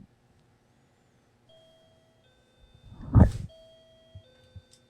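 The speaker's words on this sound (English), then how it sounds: "It's the doorbell, for those that are wondering what that sound is." A doorbell chimes in a quiet room with a few clear, sustained electronic tones, broken by a short thud-like burst in the middle.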